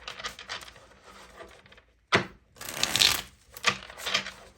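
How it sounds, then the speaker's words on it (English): Tarot cards are riffled and shuffled by hand in several quick bursts of crisp, papery flutter, separated by brief pauses, close and clear with no talking. "One more shuffle."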